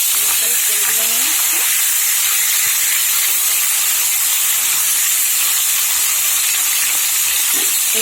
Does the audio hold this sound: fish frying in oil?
yes